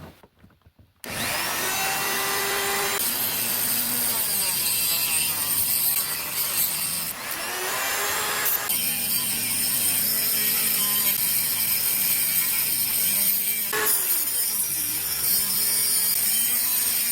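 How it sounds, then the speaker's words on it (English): A large Dremel fitted with a snake attachment and a fiberglass-reinforced cutting wheel grinds through a stuck hose clamp during water pump work on a 2008 Dodge Charger. After a brief pause it gives a loud, continuous, high-pitched grinding whine that varies slightly as it cuts. "I'm getting a bigger Dremel with the snake attachment on it"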